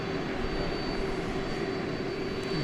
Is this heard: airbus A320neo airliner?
yes